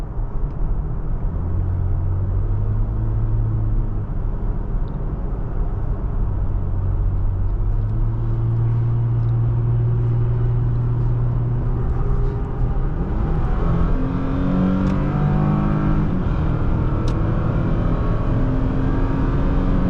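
A 2023 Toyota Tacoma TRD Off Road pickup accelerating, heard from inside the cab: a steady, loud engine drone that climbs in pitch through the gears, with road and wind rumble underneath and no talking.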